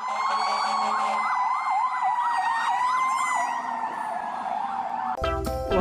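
A wailing toy ambulance siren sweeps up and down steadily and loudly, with a short burst of clattering noise at the very end.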